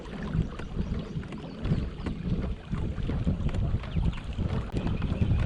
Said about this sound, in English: Oh, I hear a boat coming.